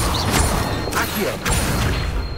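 In the Hogwarts Legacy video game, the Accio summoning spell fires with loud, close whooshing magical bursts, two or three sharp surges over a busy background.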